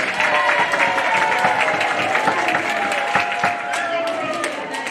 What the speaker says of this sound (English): Big round of applause for all the first grade winners